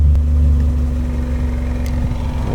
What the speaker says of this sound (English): Why are we idling so low all of a sudden?